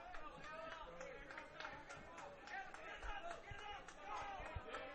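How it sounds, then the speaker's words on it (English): A crowd at a college baseball game between Polk State and State College of Florida, with a dense, lively babble of many voices and shouts, fairly distant and steady, with occasional claps or thuds. "Crowd getting into it."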